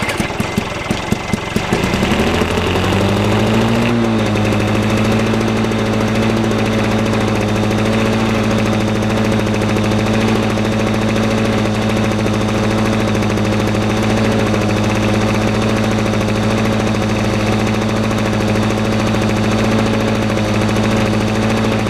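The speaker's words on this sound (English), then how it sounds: "So let's see if I can start this thing." An older walk-behind lawnmower engine, fuel poured into the air filter feeding the carburetor, sputters through a few pulls, then catches and settles into a loud, steady running drone that continues alone.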